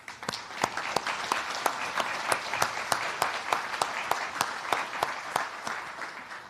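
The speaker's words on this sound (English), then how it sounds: "Let's give him a round of applause." Applause from an audience at a ministerial meeting welcoming Iraq's foreign minister, a steady wash of many hands clapping with sharp individual claps standing out, sustained and fairly close throughout.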